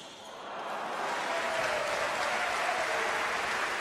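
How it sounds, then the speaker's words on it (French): A crowd applauds at a cesta punta match in Saint-Jean-de-Luz, a dense, sustained clapping that swells quickly and holds steady at a moderate distance. "Sur les applaudissements du public lusien"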